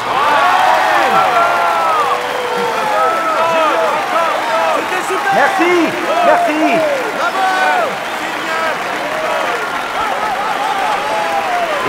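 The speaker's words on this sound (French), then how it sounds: "Un tonnerre d'applaudissements pour eux, s'il vous plaît." A studio audience applauds and cheers for a musical pair on a French-language television show, a dense sustained wash of clapping with whoops and voices running nearly twelve seconds at steady loudness.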